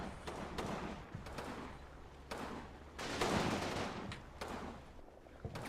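Soldiers firing in the Combat Mission: Battle for Normandy wargame, sustained bursts of gunfire rolling in dense overlapping volleys, with louder surges around the middle, no talk.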